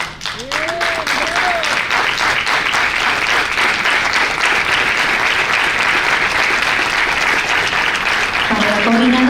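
An audience at a speech in Catamarca applauds in a long, dense, steady burst of clapping, loud and close, with brief voices at the start and end.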